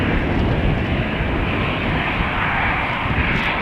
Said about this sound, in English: So, coming this way, one of Aer Lingus' Airbuses